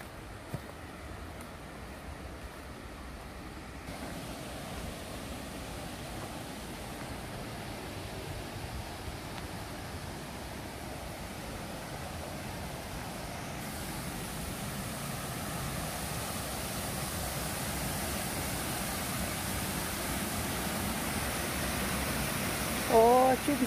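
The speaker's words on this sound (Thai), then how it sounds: "ได้ยินเสียงน้ำตกแล้ว" Rushing water from a waterfall on a shaded trail at Khao Yai, heard as a steady broadband roar that stays fairly even and builds slightly as the falls draw closer, with no voices.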